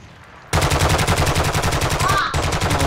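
Rapid automatic gunfire bursts in Call of Duty: Modern Warfare II, a loud, dense, evenly spaced stream of shots that starts abruptly, runs for over two seconds with a brief break, then resumes.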